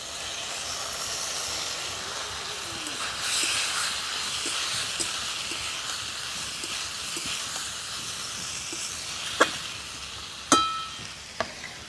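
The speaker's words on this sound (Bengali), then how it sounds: "মশলাটা ভাজা হয়ে গেছে এবারে দিয়ে দেবো আগে থেকে ভেজে রাখা আলু বেগুন শাক" Already-fried potato, eggplant and kalmi greens go into frying spices with a steady, close sizzle and hiss, broken near the end by a few sharp clinks of a spoon against the pan.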